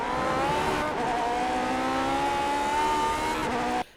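Lotus 49 race car in the iRacing simulator at Le Mans, its engine revving hard and steadily climbing in pitch as the wheels spin, loud and close, then cutting off abruptly.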